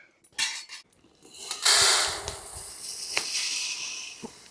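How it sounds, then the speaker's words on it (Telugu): Roasted coriander seeds tipped out of a pan with a scraping, rattling rush, accompanied by metallic clinks of a utensil against the pan, near and moderately loud with brief knocks at the end. "ధనియాలు వేగిపోయినాయండి. చక్కగా మనం తీసేసుకొని పక్కకు పోసేసుకుందాం."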